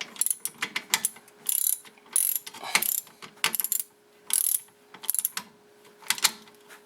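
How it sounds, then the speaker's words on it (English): A ratchet wrench clicks in quick bursts while tightening brake bolts on a 2004 Volkswagen Jetta TDI, the rapid pawl clicks close and crisp, with short pauses between strokes. "Then we'll do these bolts back up."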